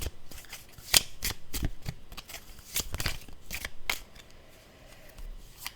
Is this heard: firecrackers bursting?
no